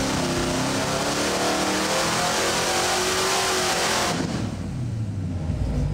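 A Ford 390 FE V8 from a junkyard, run hard on an engine dyno, roars loud and steady at high revs for several seconds, then cuts and winds down into a lower, rougher idle rumble near the end.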